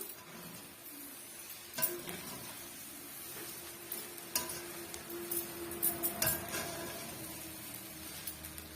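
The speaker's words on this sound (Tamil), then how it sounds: "சாதம் சேர்த்தாச்சு இப்ப நம்ம வந்து மிக்ஸ் பண்ணி கொடுத்துக்கலாம்" Cooked rice stirred into an egg mixture in a pan for Tamil-style egg rice, with quiet scraping and a series of spatula clinks against the pan over a faint steady sizzle and hum.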